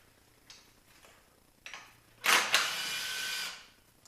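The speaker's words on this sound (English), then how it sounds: "There's a 10mm bolt here. We're going to loosen that." A 10mm bolt on a car's motor mount is loosened with a hand tool: a few faint clicks at first, then a louder burst of rasping ratchet-like grinding lasting about a second before it fades.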